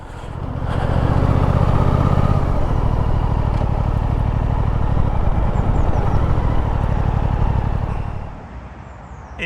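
A Suzuki GSX8S motorcycle rumbles loud and close, its steady engine note holding with a brief change in pitch, then dropping away near the end as the bike slows to a stop.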